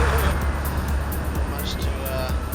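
A bus engine in the OMSI 2 driving simulator gives a steady low rumble that runs throughout at a constant level, with some faint overlapping babble and road-like noise.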